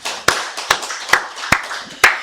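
Five sharp, separate hand claps at an even, unhurried pace, close and loud with quiet gaps between them, given during a church worship service.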